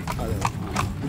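A horse's hooves clip-clop in a slow, even rhythm of a few distinct strikes on hard ground in an old Moroccan town, close by, over a low rumbling background.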